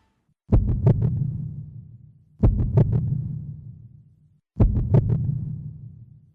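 A dragon's heartbeat in the video game Tokyo Mirage Sessions FE Encore pounds three times, each a deep, booming double thump that rings out and fades slowly before the next, loud and alone.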